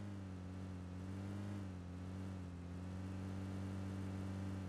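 A vehicle engine in a battle royale video game, a steady low droning hum at a quiet level with no voices over it.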